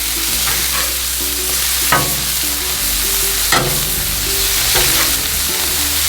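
Salmon burger patties sear loudly on a Blackstone griddle. A constant sizzle runs throughout, broken by a few sharp spatula scrapes.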